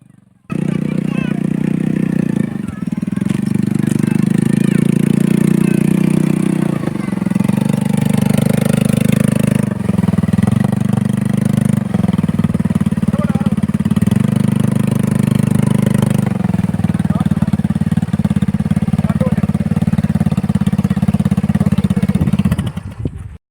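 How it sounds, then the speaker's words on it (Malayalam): Small ride-on scooter carrying a rider around Velliyankallu park at Thrithala in the evening, its engine droning steadily and loudly close by for the whole stretch, with slight shifts in pitch and faint background voices. "പകരം വന്നിരിക്കുന്നത് ഈ സ്കൂട്ടർ"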